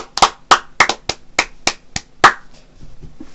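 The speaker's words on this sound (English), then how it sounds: "I think we should give 5 seconds of clap to Wayne Rooney" About ten sharp hand claps in a loose, uneven rhythm, close and loud, with a brief pause before a final strong clap and a soft tail of quieter sounds.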